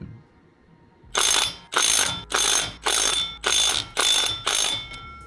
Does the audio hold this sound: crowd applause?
no